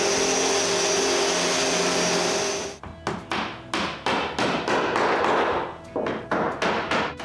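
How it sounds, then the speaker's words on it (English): Sanding wooden bookcase parts: a steady, loud sander-like drone for nearly three seconds, then a run of repeated short knocks and scraping bursts as the wood pieces are handled and worked, with no talking. "I sand every surface that will be inside this case."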